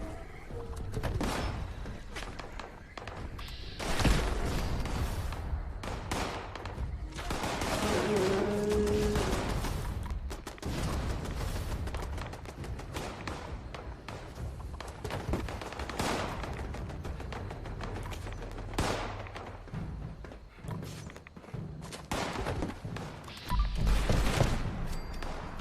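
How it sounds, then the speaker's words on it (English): Turret gunfire in the game Fallout 76, rapid bursts of shots crackling densely throughout, loud and close, with other game sounds mixed in and no speech. "I'm going for these turrets."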